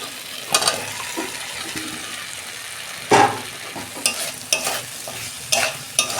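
Drumstick pieces and potato are dropped into hot spiced oil in a home kitchen, setting off a steady close sizzle with sharp bursts of frying and stirring scrapes that flare up several times.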